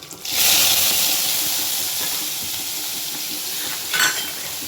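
Ground onion hits a hot pan for a fish curry and sizzles loudly with a bright steamy hiss, easing into a steady fry, with a short stirring scrape near the end.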